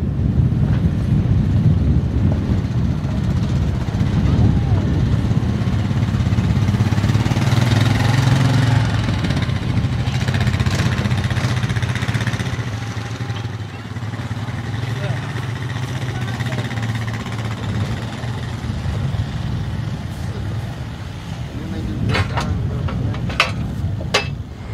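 A Kubota BX1800 compact tractor drags a middle buster through soil, its steady mid-pitched engine rumble droning continuously at a moderate distance and easing slightly partway through, with occasional speech over it.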